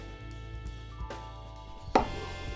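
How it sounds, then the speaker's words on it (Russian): A knife taps steadily against a cutting board while potatoes are sliced into sticks, a quiet run of soft chops close by with one sharper knock near the end. "Мы будем резать брусочками."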